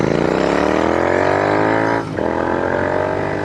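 Royal Enfield Continental GT 650 motorcycle with S&S exhaust pipes, a loud, steady engine drone heard up close that dips briefly near the end, then carries on.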